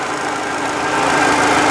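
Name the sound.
engine noise from front of 2007 Hyundai Elantra engine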